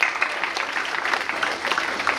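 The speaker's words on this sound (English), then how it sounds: "Let's give a round of applause to all the winners." Applause for prize winners at a school annual science exhibition, a dense steady crackle of many hands clapping across the hall, moderately loud and continuous throughout.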